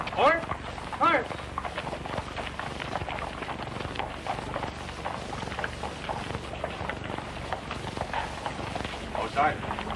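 Hooves clip-clop in a quick, steady rhythm over a noisy background, with voices calling out briefly.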